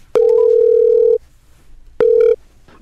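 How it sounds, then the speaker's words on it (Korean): A telephone call connects with a loud, steady ringback tone: one long beep of about a second, a short pause, then a shorter second beep, with no voices. "전화 연결해 볼게요"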